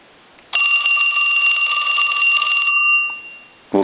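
A Western Electric 2554 wall telephone's mechanical bell rings in one continuous metallic burst of about two and a half seconds, loud and close in a quiet room, then trails off before a clunk.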